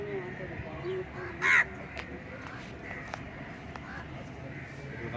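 Many crows caw at a temple near Pattinambakkam beach, with one loud, close caw standing out among fainter calls while someone talks over the scene.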